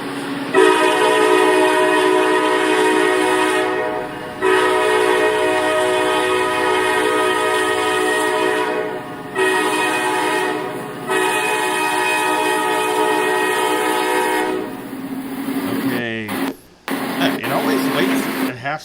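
Norfolk Southern locomotive horn in the Trainz railroad simulation game, sounding in long sustained harmonic blasts with brief gaps, loud and close, ending in a few short choppy bursts.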